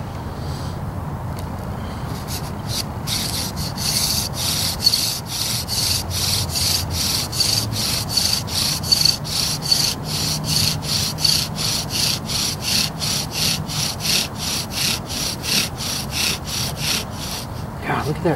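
Rhythmic back-and-forth friction of a bow drill spinning a redwood spindle cut from dead standing timber, steady rasping strokes repeating about twice a second, close and fairly loud, with no talking.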